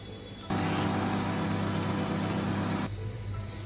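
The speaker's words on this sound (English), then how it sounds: "now I'm going to microwave it for 2 minutes on high" Microwave oven running on high while cooking an eggless chocolate mug cake, a steady loud hum that starts abruptly and drones evenly for a couple of seconds before cutting off.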